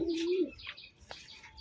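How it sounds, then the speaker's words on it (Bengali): A High Flying Giribaz pigeon gives a single close, clear coo lasting about half a second, followed by faint rustling and a brief soft tap. "খুব সুন্দর একটা গেট আপের পায়রা, স্টাইলের পায়রা।"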